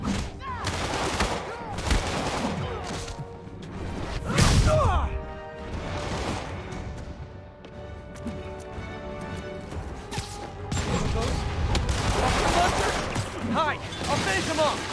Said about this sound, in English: My rocket launcher.